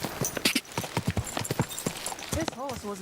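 Horse hooves clip-clopping in Kingdom Come: Deliverance 2, a steady run of sharp, close hoof strikes with a short whinny near the end, playing under someone talking.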